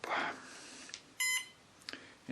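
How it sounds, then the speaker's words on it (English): A Cobra electronic speed controller for an RC plane gives a single short electronic beep on power-up, set to slowdown cutoff mode, heard alone amid faint clicks and room noise. "notice you just got the single beep"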